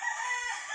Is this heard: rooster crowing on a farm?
yes